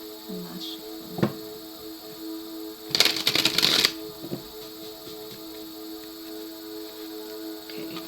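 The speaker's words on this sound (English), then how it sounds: "And last shuffle." Tarot cards get a short, brisk shuffle, a close burst of papery flicking lasting about a second over a steady low room hum, with a few faint taps before and after.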